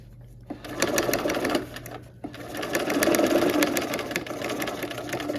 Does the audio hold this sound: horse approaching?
no